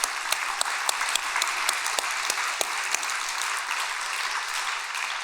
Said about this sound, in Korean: 우리 모심 수련생 전체에게 박수 한번 올려드립시다.